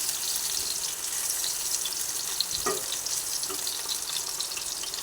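Pieces of pointed gourd frying in oil in a pan over lowered gas, a steady, even hiss and sizzle throughout, with one faint clink partway through and no talking.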